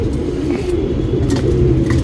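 A line patta pigeon, a racing breed, coos close by in low, continuous rolling murmurs with no speech.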